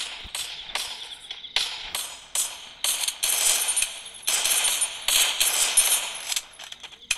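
Rapid bursts of gunfire in a shooter video game, including SMG fire, come in repeated loud volleys and short pauses, with crisp bright shots continuing throughout and no talk over them.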